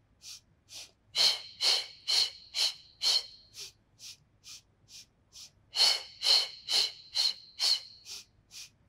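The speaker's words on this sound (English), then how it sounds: "And inhale through the nose" Rhythmic nasal breathing during a Pilates workout, a run of short, close breathy puffs in quick succession, pausing briefly before a second evenly spaced series of inhalations through the nose.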